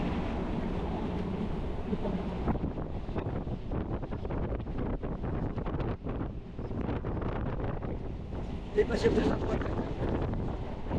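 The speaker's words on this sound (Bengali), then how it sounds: "আমরা কিন্তু এখন শিয়ালদার যে লোকাল ট্রেন সেই লোকাল ট্রেনে রয়েছি" Steady rumbling train noise with rattling and wind rush throughout, like riding inside a moving Sealdah local passenger train carriage, with faint voices in the background.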